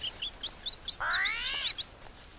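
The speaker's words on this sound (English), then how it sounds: "I hear a bird." Birds chirping in the jungle survival video game Green Hell, a series of short bright rising tweets repeated rhythmically, with a longer warbling call in the middle, moderately faint against quiet ambience.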